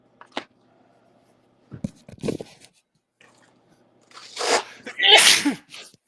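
A single sharp sneeze bursts out near the end, loud and close, after some faint rustling and handling sounds in a quiet room.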